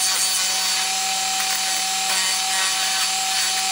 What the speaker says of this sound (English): I'm going to do that with my Dremel saw and a barrel head sander.